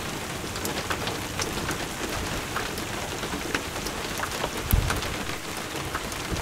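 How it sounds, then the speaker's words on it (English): Cold rain falls steadily on open prairie, a dense, even patter of drops on surfaces with occasional louder splats and a brief low rumble midway, with no voices. "With the cold rain coming down."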